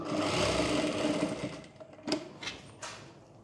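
Sewing machine stitching a diagonal seam on a boat neck princess cut blouse: a close, steady whirring run of stitches that stops, followed by a few short clunks and knocks.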